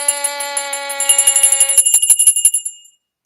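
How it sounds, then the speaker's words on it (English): A bell rings with a bright, sustained metallic tone, then breaks into a rapid series of loud strikes that trail off and stop abruptly, with no voices. "That bell sounds like it's on its last ring."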